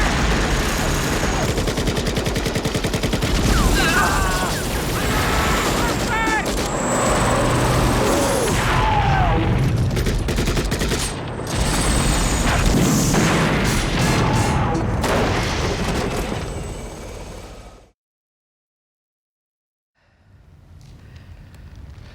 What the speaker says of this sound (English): remove the sight of bullet impact during the Russian air assault on Troutman and his men